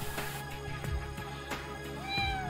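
A cat meows over a busy background of steady low hum and tonal music, with several short calls spaced across the moment and one rising cry near the end; no one speaks.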